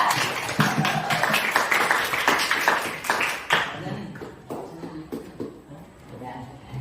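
Students in a classroom clap for a presenting group: a burst of sharp, close handclaps for about three and a half seconds, then it thins to a few scattered taps and room noise as voices murmur.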